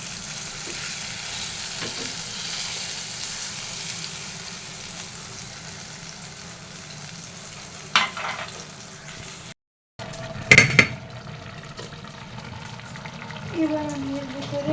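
Eggplant slices frying in oil in a pan give a steady, close sizzle that runs throughout, with a few clinks of stirring, a brief drop-out near the middle and a sharper crackle just after it.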